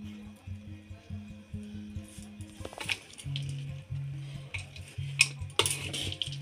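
Bhel ingredients tossed and stirred by hand with lemon juice and red chili powder, giving soft repeated scraping and rustling strokes in a quiet room, close and fairly faint, with a few sharper clinks near the end.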